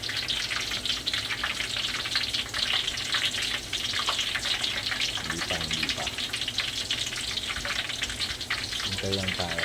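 Peanuts fry in oil in a pan for adobong mani, giving a steady close crackling sizzle throughout, with a few soft scraping stirs and brief speech underneath.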